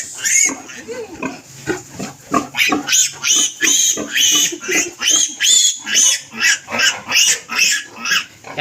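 A pig squeals loudly and repeatedly, close by, in a rapid string of shrill bursts, during veterinary work on its tail.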